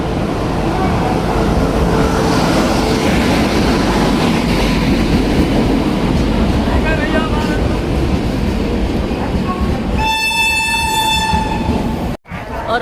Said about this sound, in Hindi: और अभी आपने जो ट्रेन देखा वो हमारी ट्रेन बिल्कुल भी नहीं है।